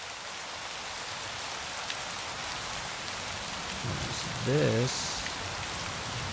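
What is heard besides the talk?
synthesized wind and rain sound effect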